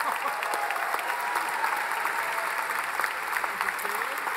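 Audience at a secondary school graduation ceremony giving sustained applause, a dense, even patter of many hands clapping with no pause.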